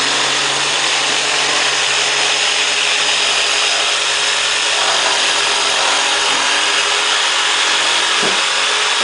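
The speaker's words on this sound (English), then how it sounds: "So I'm going to cut that out with a jigsaw" Jigsaw cutting a circle from scrap wood, a loud continuous buzzing whine that holds steady throughout, close to the microphone.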